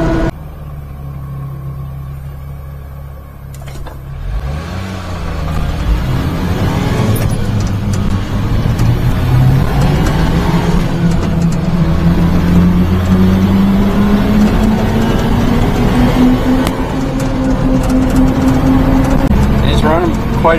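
A supercharged mini-truck drives along with a loud, close engine drone that climbs steadily in pitch as it accelerates, a supercharger whine layered over the rumble and a person talking over it.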